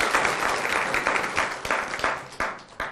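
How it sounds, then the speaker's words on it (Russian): Audience applause at a university talk show, a crowd clapping with dense, fairly close, uneven hand claps for a few seconds. "Бурный аплодисмент ему."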